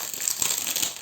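Sheets of Florence scrapbooking paper crumpled and handled up close, a dense, continuous crinkling rustle for about a second with no voices.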